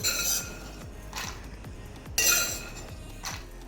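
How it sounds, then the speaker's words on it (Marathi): Roasted peanuts and coconut are tipped from a pan into a mixer jar: two bright bursts of clattering and rattling, close and brisk, separated by a short pause with faint scraping. "आता मी हे मिक्सरच्या भांड्यात काढून घेत आहे"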